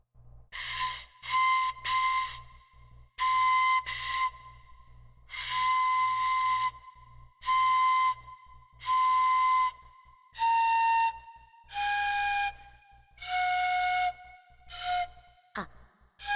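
A shinobue Japanese bamboo flute plays a series of breathy held notes with short gaps between them, slowly stepping downward in pitch and ending in a quick slide, close and clear with no talking.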